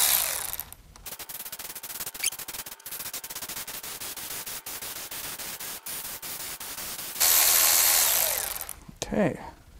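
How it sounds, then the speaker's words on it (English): A ratchet loosens cam cap bolts on a blown-up Ford 5.0 Coyote V8, giving rapid, close, evenly spaced clicking in several bursts, broken by short pauses and louder hiss-like noise. "now we're going to loosen them up a little at a time"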